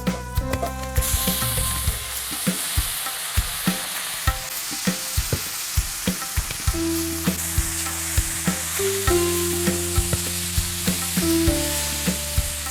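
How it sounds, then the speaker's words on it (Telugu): Cooked foxtail millet and moong dal get stirred into hot ghee with browned cashews for millet pongal, a spoon scraping and knocking rhythmically against the pan over a continuous loud sizzle. "ఉడికించుకున్న కొర్రలు పెసరపప్పు అన్నాన్ని ఇప్పుడు దీనిలో కలుపుకుందాం"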